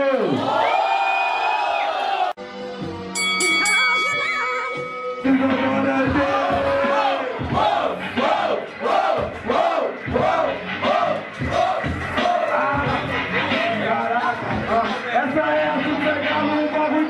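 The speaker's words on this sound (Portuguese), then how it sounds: "Quem acha que o Fortes foi mais criativo no primeiro round e faz barulho" A rap battle audience at a Super Galo final in Londrina roars, shouts and whoops for a contestant, loud and continuous, with a brief musical beat sting early on before the crowd noise swells in rhythmic waves of chanting.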